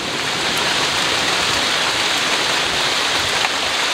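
Rain falls steadily in a durian village, a constant close hiss of drops on surfaces with no pauses and no voices.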